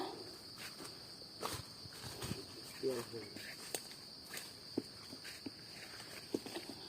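Footsteps walking through a forest while hunting for mushrooms, a series of faint irregular crunches and rustles on the ground under a continuous high insect chirr, with no talk.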